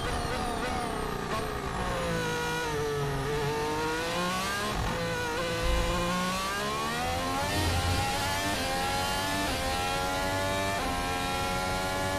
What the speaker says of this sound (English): You can hear the engine shows they're going around turn 9.